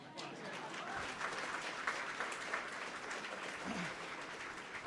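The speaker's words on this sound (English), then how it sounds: "applause" An audience applauds for Maura, an eighth-grade teacher from Washington, D.C., at a community celebration; steady, moderately quiet clapping from a crowd runs throughout, with a few voices faintly under it.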